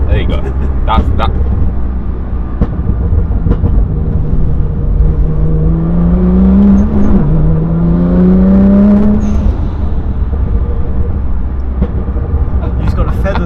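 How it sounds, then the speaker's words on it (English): Exhaust burbles from an 800bhp Nissan R35 GTR, a low rumbling idle with crackles and a rising, falling throttle blip in the middle, heard close with someone talking over it. "It's a very low tone to the burbles, but it's like a bomb going off."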